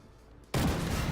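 A tank cannon shot from the Chieftain in the armoured combat game Armoured Warfare bursts in abruptly after quiet ambience, a single loud, close blast with a sustained rumbling roar that carries on to the end.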